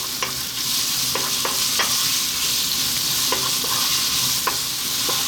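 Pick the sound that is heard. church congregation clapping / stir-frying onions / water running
stir-frying onions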